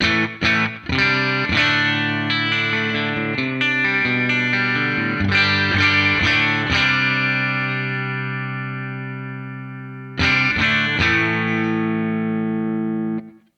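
Clean electric guitar chords through a Fender-style clean amp preset on a Two Notes OPUS ring out with a bright tone and springy reverb tail, strummed then left to decay before a final strum.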